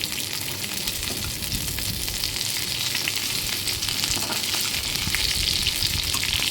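Fish pieces fry in a hot pan with a steady, close, loud sizzle and spatter, broken now and then by the scrape of the pieces being turned. No one speaks over it.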